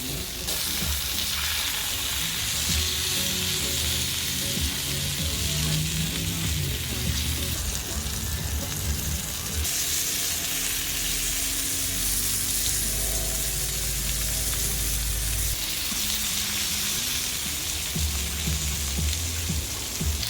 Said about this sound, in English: I seared every edge, every side of the steak.